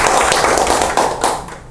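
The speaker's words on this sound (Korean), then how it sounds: "큰 박수로 맞아주십시오." A lecture audience applauds to welcome a speaker, with dense, loud clapping from many hands that holds steady and then begins to thin out at the end.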